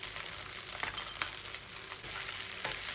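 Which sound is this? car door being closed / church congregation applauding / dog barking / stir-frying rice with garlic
stir-frying rice with garlic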